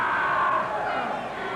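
A wrestling arena crowd roars and shouts against the Cuban Commando in an ACCW match, a steady, fairly loud mass of voices under a commentator talking.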